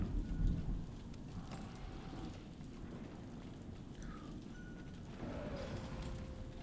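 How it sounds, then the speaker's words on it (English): Rain falling steadily outside with a low rumble of thunder, a soft continuous hiss and patter, fairly faint and distant, with a few small background noises. "it's raining outside."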